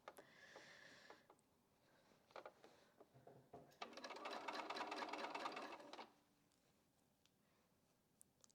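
A sewing machine stitching quilt block pieces runs in one steady burst of a couple of seconds, close and clear, framed by quieter handling clicks before and after.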